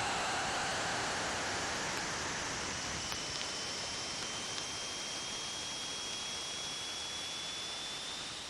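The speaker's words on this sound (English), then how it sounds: "What you're hearing is ring particles striking the probe." Steady, dense hiss of Saturn ring particles striking the Cassini probe as it crosses the gap between the planet and its rings, a continuous noise wash with a faint rising whistle tone running through it.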